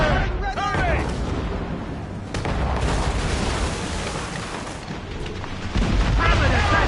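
Naval cannon fire from ships in Assassin's Creed Rogue rolls out in heavy, overlapping booms and rumbling blasts across a sea battle, loud and sustained, with shouted voices mixed in.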